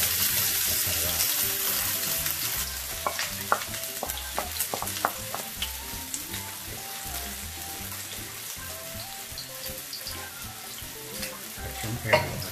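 Minced chili frying and being stirred in a hot pan for Filipino palabok, a steady close sizzle with scraping utensil clicks and a sharper clatter near the end.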